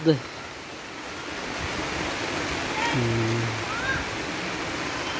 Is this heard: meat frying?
no